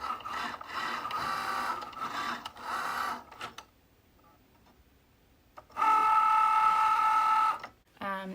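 A Cricut Joy cutting machine cuts glitter iron-on, whirring and ticking in steady mechanical bursts. There is a quiet pause, then a louder tonal motor run that ends abruptly.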